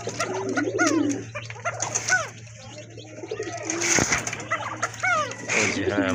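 A female pigeon coos repeatedly in a rhythmic series of close, throaty calls, with other birds and a steady background hum, and a person talks briefly at times.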